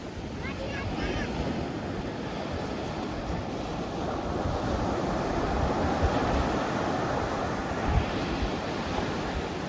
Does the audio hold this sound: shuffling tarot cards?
no